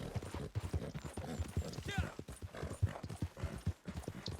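Horse hooves clip-clop at a steady riding rhythm in the Western video game Red Dead, close and distinct, with a voice talking over them.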